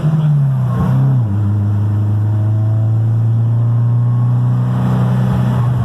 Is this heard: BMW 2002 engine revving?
yes